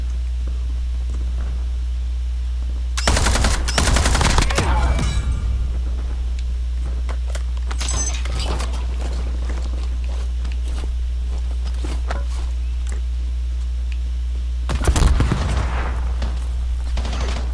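Repeated gunfire bursts in a video game ring out loud and close over a steady low hum, with two heavy volleys and scattered single shots between them.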